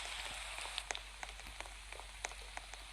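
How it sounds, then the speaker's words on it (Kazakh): Rain falling in the video game Roblox, a steady hiss of patter with scattered sharper droplet ticks throughout, fairly faint and with no talking. "Жаңбыр жауып кетті, жаңбыр"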